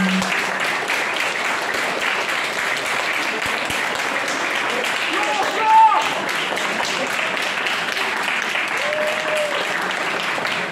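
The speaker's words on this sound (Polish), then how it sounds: "Wielkie brawa." Sustained applause from an audience at a Polish debate during the Freedom March for the Polish Army Day anniversary, a steady dense clapping across the whole stretch with faint voices underneath.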